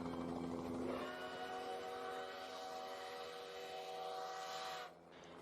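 Steam locomotive 148 sounds its whistle, a long, loud multi-tone chime over a hiss of steam, held steadily for about four seconds before cutting off abruptly.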